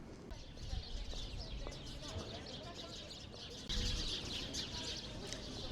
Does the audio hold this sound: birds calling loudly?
yes